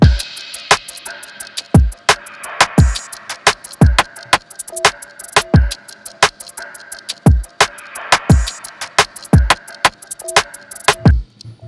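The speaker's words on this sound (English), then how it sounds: "the drums with the perc ensemble sound like this" A percussive groove of sharp, punchy drum hits with deep kick thumps, layered with bright clicky percussion in a steady repeating pattern, no voices.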